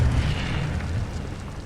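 Incendio fire spell blasting in the game Hogwarts Legacy, a loud continuous rumbling whoosh of flame with a deep roar, steady throughout with no speech.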